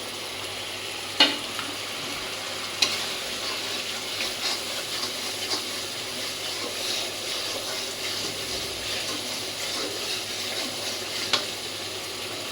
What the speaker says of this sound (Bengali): মশলা এমনভাবে ভাজতে হবে